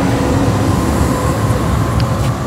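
An Oslo metro train pulls away from Forskningsparken station, a steady loud rumble of wheels and motors filling the whole stretch with faint higher whines above, no voices heard.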